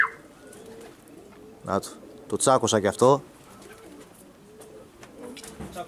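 Fancy pigeons coo in a loft in Veria, Greece, giving a burst of throaty, rolling coos close by, while someone talks before and after.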